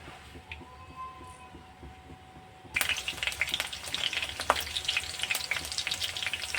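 Green chillies dropped into hot oil in a pan while making set dosa, a quiet pan first, then a sudden loud crackling sizzle that continues close and steady.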